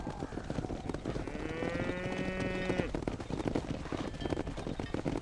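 Cattle moo in a drawn-out call from a herd in the Red Dead Redemption video game, set against a busy, noisy backdrop of other game sounds.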